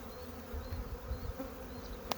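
Honey bees humming steadily around an open hive during an inspection, a dense low drone with occasional nearer passes, with no talk over it.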